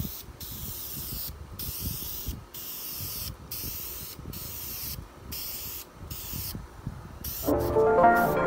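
Aerosol can spraying wrinkle black paint onto an intake manifold for a turbocharged AWD Honda CR-V, a series of steady hissing bursts separated by short pauses, close and loud.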